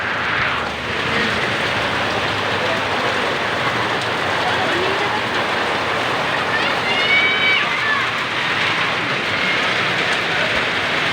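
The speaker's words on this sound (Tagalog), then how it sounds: "Ayan mga guys, tag-ulan na, tag-ulan." Steady rain patters on a surface, a continuous broad hiss that holds at an even level throughout.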